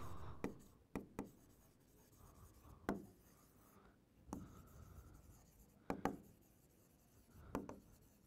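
Chalk or marker writing on a board during a Class 12 biology lesson: a series of short, sharp scratches and taps in irregular bursts, close and fairly quiet, with no talking.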